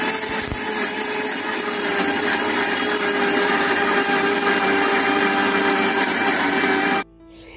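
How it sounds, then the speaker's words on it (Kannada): A kitchen mixer grinder grinds neem leaves into a fine paste with a loud, steady whirring roar that runs unbroken for about seven seconds and then cuts off abruptly. "ಇದನ್ನು ಮತ್ತೆ ಚೆನ್ನಾಗಿ ಗ್ರೈಂಡ್ ಮಾಡ್ಕೊಳ್ಳೋಣ."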